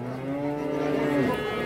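A pregnant cow at the Sokuluk livestock market gives one long, close, low moo that rises slightly and fades after over a second, with steady market background noise and no talk.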